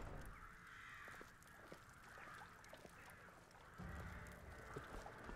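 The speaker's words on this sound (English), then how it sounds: "There are more crows than last time." Crows caw in the Skyrim game world, several harsh calls repeating at a distance over a quiet, airy ambient bed.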